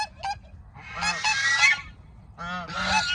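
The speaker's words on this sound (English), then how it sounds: "Let me show you some of our geese." Geese honk loudly nearby in a few harsh, nasal bursts, one short call followed by longer overlapping honks.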